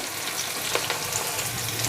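Steady, loud sizzling of bitter gourd (spine gourd) frying in an iron wok, a continuous crackling hiss with occasional small pops and stirring sounds.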